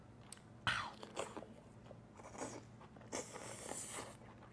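Close biting and chewing of an expensive treat, with crisp crunchy bites followed by softer wet chewing and a few scraping rustles near the microphone.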